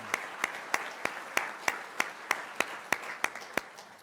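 Sparse, slow claps from a small audience after a call to recognize group members at a startup competition kickoff, about a dozen distinct claps spaced roughly a third of a second apart.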